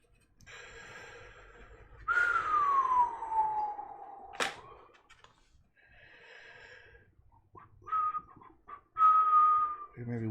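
A person whistles in a few faint, wavering tones, with one long downward-gliding note followed by shorter held notes, amid heavy breathing and a sharp sniff.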